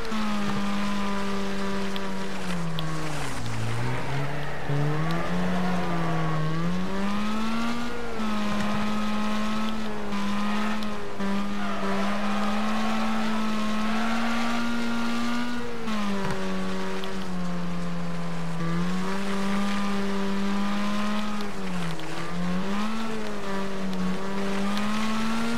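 Race car engines roar in the Wreckfest video game, a steady loud drone with the pitch dipping and climbing as the cars shift and accelerate through a race, no voices over it.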